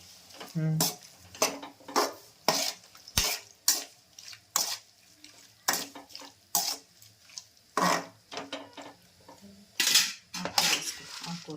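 A utensil scrapes and clanks against a metal pot while food is mixed for a spinach curry at home, with about a dozen sharp, irregular strokes separated by quiet gaps, close and clear.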